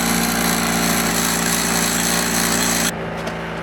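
A power grinder grinds down a metal tool piece while fitting a car vent window, producing a loud, steady, continuous whine and rasp that runs for nearly three seconds, then cuts off abruptly into quiet.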